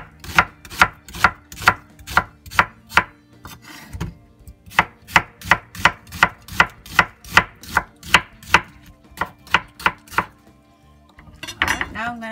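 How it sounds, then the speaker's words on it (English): A knife slices food on a cutting board at a home meal-prep counter, about twenty crisp rhythmic chops in two quick runs with a short pause between, close and loud with no talking. "now I'm just gonna slice this"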